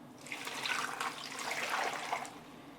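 Clear limewater is poured gently off lime settled in a container, a soft, close, steady trickle and splash with no talk.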